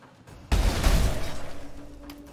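Ice explosions in the video game Path of Exile: a sudden loud crashing burst with a rumbling low end, followed by a decaying, fluttering crackle that fades over about two seconds.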